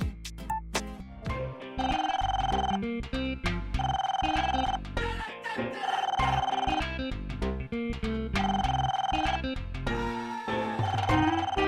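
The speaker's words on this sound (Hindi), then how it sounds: "तुम्हें फोन की घंटी सुनाई देती है या नहीं?" A telephone rings repeatedly in regular bursts of electronic trilling, loud and close, continuing for several cycles with no voices.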